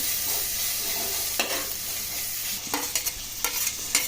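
Ginger garlic paste sizzling in a hot pan while cooking brinjal curry, a steady frying hiss with a few brief stirring scrapes, close and moderately loud, no talking.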